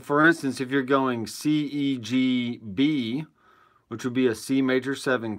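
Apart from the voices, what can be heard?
No distinct noise like a dog, phone or traffic.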